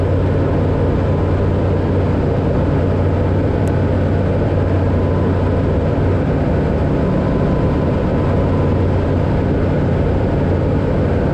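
A Eurofox light aircraft cruises in flight on a trip from Perth to Glenforsa, its engine and propeller making a constant loud droning hum that fills the whole stretch without letup.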